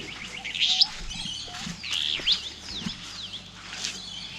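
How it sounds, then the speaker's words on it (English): Several high, thin finch chirps in quick bursts at a riverside camp, with faint rustling and scraping in the background. "It's like a little finch."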